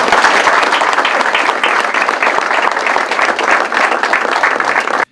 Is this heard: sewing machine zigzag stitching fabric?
no